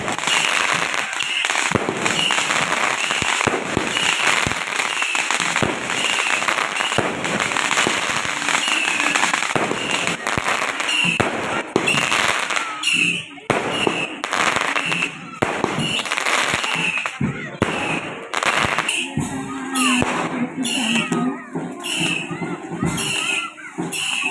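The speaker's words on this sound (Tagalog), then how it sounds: "hindi mawawala yung firework display" Fireworks display at a procession for Nuestra Señora de la Paz y Buen Viaje, a dense barrage of loud crackling bursts and sharp firecracker pops with a crowd murmuring and shouting underneath, thinning into scattered bangs near the end.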